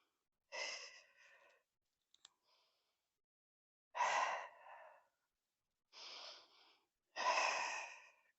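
Breathing during a beginner abdominal workout: several close, breathy inhales and exhales in an uneven rhythm, separated by quiet pauses, with no talking.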